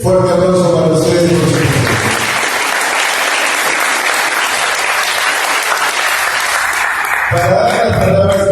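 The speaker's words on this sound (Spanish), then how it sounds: "Fuerte aplauso para ustedes." Loud, sustained audience applause fills the room for about five seconds at the opening of an ancestral-cooking event, with a voice speaking before it begins and again after it fades.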